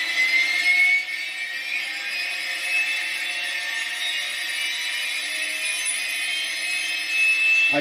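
A Bell 222 scale RC helicopter's APU start-up sound effect: a steady high turbine-like whine and hiss that holds evenly throughout, close and fairly loud with no talk.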